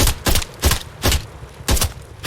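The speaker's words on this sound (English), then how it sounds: "when I shoot 5 times in the chest, they're gonna die" Four loud, close gunshots from a third-person shooter video game, spaced roughly half a second apart, each a sharp blast with a brief tail and nothing else heard.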